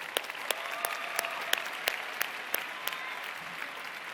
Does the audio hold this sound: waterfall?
no